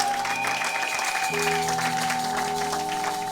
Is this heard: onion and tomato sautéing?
no